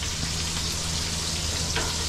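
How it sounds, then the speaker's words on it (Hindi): Mustard seeds and chillies tempering in hot oil for khaman dhokla, a steady dense sizzle and crackle close by, with no voices. "अब इसको तड़का लगा रहे थे"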